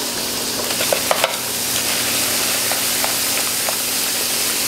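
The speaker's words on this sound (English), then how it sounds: "Stir it up. Keep it moving." Roux for New Orleans gumbo being stirred in a pot: a steady, close sizzling hiss with a few sharp scrapes and taps of the spoon against the pot.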